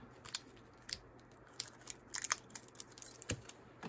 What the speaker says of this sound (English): I think I'm going to try to cut it a little bit.